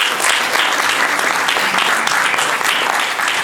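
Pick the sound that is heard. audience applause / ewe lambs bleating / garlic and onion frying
audience applause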